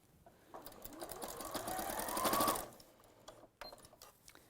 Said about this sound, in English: So as close as I can to sewing over that existing stitch line.